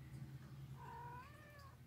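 A single drawn-out cat meow, close and fairly quiet, rising and wavering in pitch over a low background hum.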